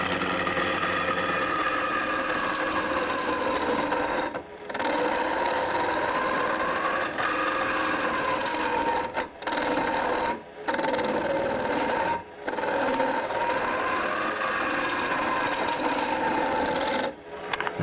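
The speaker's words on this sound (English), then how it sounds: "these tools remove the wood so fast that I have to stop already" A hollowing tool cuts into a wood vessel spinning on a lathe, giving a steady rasping hiss with a wavering pitch that drops out briefly several times as the cut pauses.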